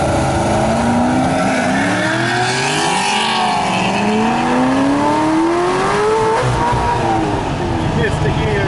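A car engine revs and drops in pitch through a fumbled gear change, loud and close, its whine sliding up and down while people talk over it.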